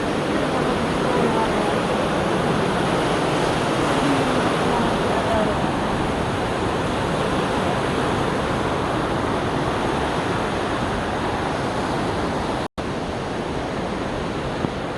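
Waterfall and rushing water in the Aareschlucht canyon in Switzerland: a loud, steady broadband roar that fills the whole stretch without pause, with one brief dropout near the end.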